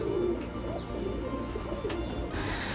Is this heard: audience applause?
no